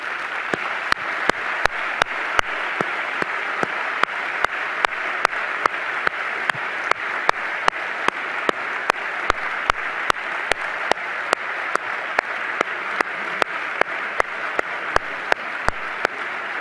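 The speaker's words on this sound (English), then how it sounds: "let's give him a big round of applause" Sustained applause from a conference audience at a bariatric surgery society's presidential address, a dense steady wash of many hands clapping evenly for the whole stretch, with no talk over it.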